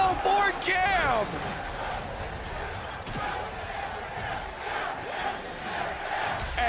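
A large arena crowd at a League of Legends Worlds esports match in New York roars and cheers loudly and steadily, with an announcer's voice and whooping calls riding over the sustained noise.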